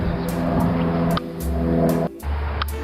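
A 1975 Ford F100 truck's carbureted V8 running rough off choke, close and steady with an uneven idle and two abrupt drops in the engine note.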